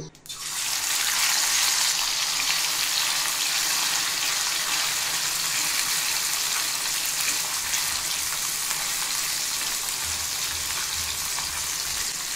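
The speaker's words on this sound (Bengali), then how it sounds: "কড়াইয়ের তেলটা গরম হয়ে গেছে, এখন আমি মাছগুলো দিয়ে ভেজে নিব" Puti fish fry in hot oil in a wok, giving a loud, steady sizzle that starts abruptly and holds nearly unchanged throughout, with no talking.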